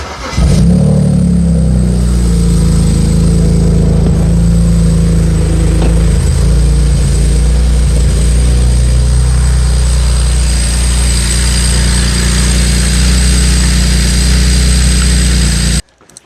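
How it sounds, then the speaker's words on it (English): A BMW 335i wagon engine starts and runs steadily, a loud, close, continuous mid-pitched drone that holds for about fifteen seconds before cutting off abruptly. "start the car for a second, get it to run"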